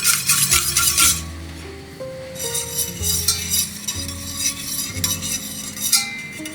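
A mixture with rosemary and orange zest stirred in a pot, spoon clinking and scraping against the sides in quick irregular strokes, close by, with a faint musical tone underneath and no talk.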